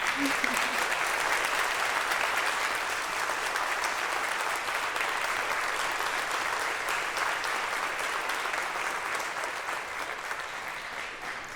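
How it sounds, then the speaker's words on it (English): A large audience at an opening ceremony breaks into a huge, sustained round of applause, a dense even roar of clapping that holds steady and only begins to thin slightly toward the end. "Let's have a huge round of applause for all of them as well."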